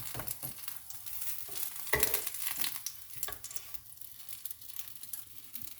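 Msemen flatbread frying in a pan, a soft continuous sizzle broken by scraping and light taps as the layered dough is turned over, fairly quiet and close.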